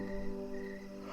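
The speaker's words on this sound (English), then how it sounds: "I heard the crickets chirp, and the frogs croak" A steady chorus of crickets chirping with frogs croaking underneath, a continuous outdoor night ambience in a bayou, with no voices.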